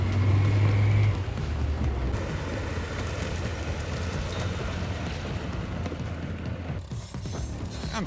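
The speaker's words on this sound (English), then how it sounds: "we deliberately drove into one of the deepest and most difficult holes in the rear" A Tinger TF4 Pro articulated ATV crawling through a deep hole, with a loud, steady low engine drone and dense mechanical rattling and clanking.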